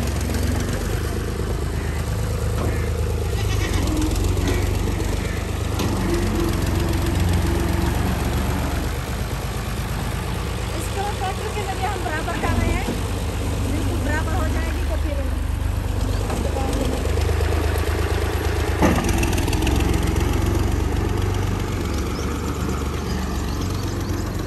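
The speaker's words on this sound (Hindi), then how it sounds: "अभी तो आप सुन रहे हैं कि गड्डी ट्रैक्टर चलने की आवाज़ सुन रहे होंगे" A tractor engine rumbles steadily while levelling soil, with low machinery drone, occasional clanks and faint birdsong in the background.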